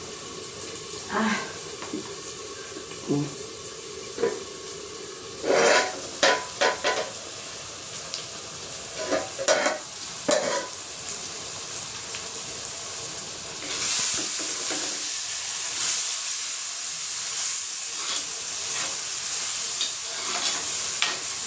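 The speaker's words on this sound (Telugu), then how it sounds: "మట్టి పాత్రలో ఈ టమాటో కూడా కుక్ అయిందండి" Tomatoes sizzle and steam in a clay pot while a spoon stirs them in scraping, clattering bursts, close and moderately loud, followed by a sustained hiss near the end.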